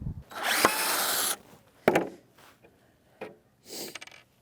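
A power drill unscrews screws from a wooden dresser piece in several short whirring bursts. The first burst is longest and loudest, and the later ones are brief and quieter, with pauses between them.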